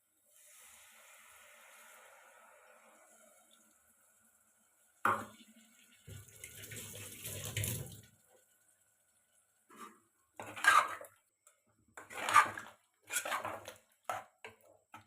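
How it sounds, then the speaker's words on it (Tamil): Dissolved tamarind water is poured into a cooking pot for a one-pot vegetable rice dish, giving a soft splash and trickle. Several clinks of utensils and metal cookware follow in short bursts, close but quiet. "இப்போ கரைச்சி வச்ச புளியை ஊற்றிக்கலாம்"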